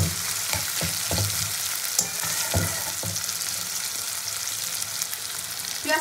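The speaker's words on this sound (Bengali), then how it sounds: "আঁচটাকে জোর দিয়ে আমি পেঁয়াজটাকে খুব ভালো করে ভেজে নেব।" Onions fry hard in hot oil on high heat, giving a constant loud sizzle with occasional scraping stirs of a spatula against the pan.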